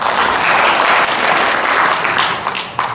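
An audience claps steadily at a referee and coach training seminar, a dense, loud wash of applause that runs the whole time and thins slightly near the end.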